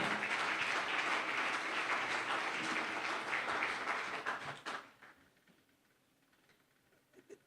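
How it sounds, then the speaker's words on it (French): A church congregation applauds together with dense, loud clapping that holds for several seconds and then dies away quickly to near quiet. "Acclamons encore."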